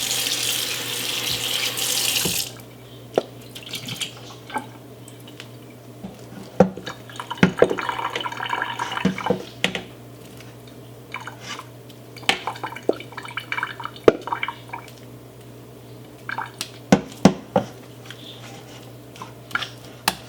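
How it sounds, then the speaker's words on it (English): Homemade butter made from cream gets rinsed under a kitchen tap: a loud gush of running water at first, then repeated drips, splashes and squelching knocks as the butter is worked in the sink, without speech. "We give it another little rinse."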